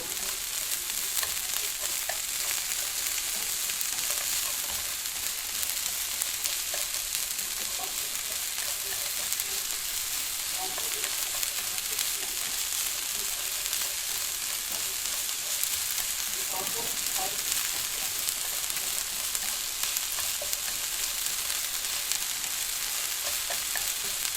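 Onions fry slowly over low heat in a pan, making a constant gentle sizzle and hiss with occasional light stirring, even and moderately quiet throughout.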